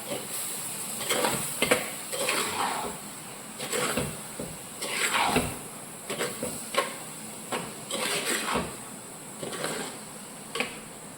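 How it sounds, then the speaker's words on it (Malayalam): Grated coconut is stirred and scraped around a hot pan with a utensil, giving about a dozen close, rhythmic scraping strokes with a faint sizzle between them and no talk. "തേങ്ങ ചേർത്ത് ഇത് നന്നായിട്ടങ്ങ് ഒന്ന് മിക്സ് ചെയ്ത് ഒന്ന് ചൂടാവണം"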